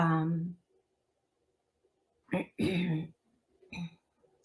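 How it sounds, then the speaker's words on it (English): A woman clears her throat with a couple of short, gruff rasps close to the mic, separated by pauses, with a brief vocal sound between them. "as I'm clearing my throat"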